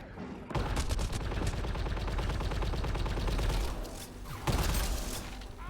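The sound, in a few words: shotgun firing in video game Mass Effect Andromeda multiplayer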